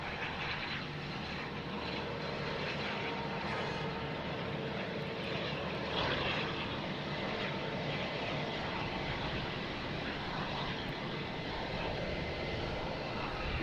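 American Airlines airliner at Boston Logan Airport, a steady broadband engine roar that holds evenly throughout at moderate distance, with no talk over it.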